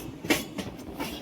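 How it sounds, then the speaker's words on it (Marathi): A train rounding a curve on the railway, rhythmic wheel clacks about every third of a second over a steady rolling rumble, heard from on board. "एकदम खतरनाक रेल्वे टर्न मारताना"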